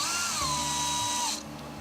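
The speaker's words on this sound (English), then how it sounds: "I'm just acting like I'm drilling again" A power drill whirs steadily while boring pilot holes to mount a 3D-printed rear guard on a Gotway Msuper electric unicycle, a close, continuous motor whine whose pitch dips and then cuts off near the end.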